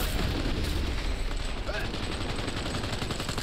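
Close-range gunfire in Cyberpunk 2077: a dense, continuous clatter of rapid shots that fills the whole moment, loud and unbroken, with game noise mixed in.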